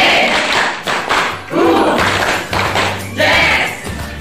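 A classroom of students claps in a patterned rhythm, loud bursts of hand claps in short grouped beats of two, one and three, with some voices mixed in.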